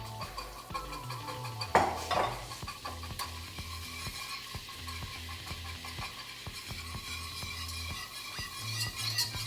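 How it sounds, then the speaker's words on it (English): Flour whisked into melted butter in a pot for mac and cheese, a steady train of rapid light whisk taps and scrapes against the pan over a low sizzle, with one louder clank near the start. "Now we are going to slowly add in our flour. We're going to use our whisk."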